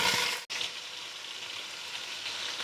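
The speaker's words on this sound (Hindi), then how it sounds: "चिकन को हम फ्राई करेंगे 3 से 4 मिनट के लिए" A kilo of chicken fries in a pan with cumin for biryani, giving a steady close hiss and crackle of sizzling oil with a brief dip in the noise near the start.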